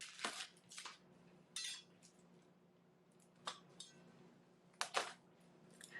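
A knife rough-chops vegetable scraps into chunks on a board, a few scattered crisp cuts and taps, close but soft against a quiet room hum.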